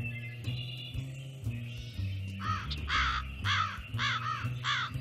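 A crow that nested atop an abandoned silo caws in a rhythmic series of harsh, repeated calls from midway on, fairly close and loud above a low steady background hum.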